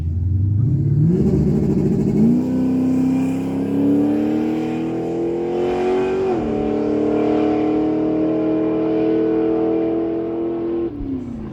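A 1970 AMC Hornet roars down a drag strip. One loud, sustained engine note climbs through the gears with brief shift dips and holds strong for about ten seconds before cutting off.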